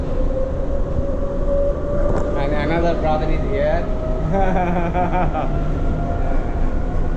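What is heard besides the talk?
monorail train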